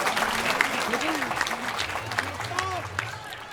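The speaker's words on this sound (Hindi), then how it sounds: "ताली बजा दो एक बार।" At a Hindi comedy poetry show, the crowd breaks into steady clapping that runs throughout, with voices and a few tonal sounds mixed in beneath the applause.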